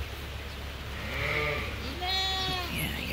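Sheep and lambs bleating in a pen on a farm, several wavering calls overlapping and rising near the end, close and fairly loud over a steady low background hum.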